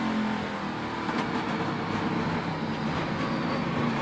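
Distant NASCAR Truck Series race truck engine hums steadily with a broad rumble, rising and falling slightly as it eases off the throttle through a tight carousel corner; no voices.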